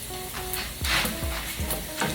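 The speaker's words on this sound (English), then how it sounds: "we're gonna go ahead and just fry these bacon bits up right in the cast iron skillet" Bacon bits fry in a cast iron skillet with a loud, close, constant sizzle, broken by a few scraping stirs and soft knocks against the pan.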